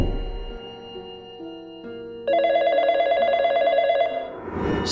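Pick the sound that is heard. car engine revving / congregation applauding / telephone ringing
telephone ringing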